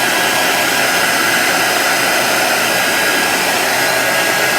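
A hair dryer blows steadily on chalk paste spread over a Halloween sign, a loud, even rushing hiss that holds constant without a break.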